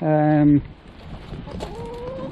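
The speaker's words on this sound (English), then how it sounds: "So the chickens are below the bird feeders, because as the seeds drop out, the chickens will be noshing away." A backyard chicken gives a brief loud cluck beneath garden bird feeders where dropped seed collects, followed by softer outdoor background sounds with faint bird calls.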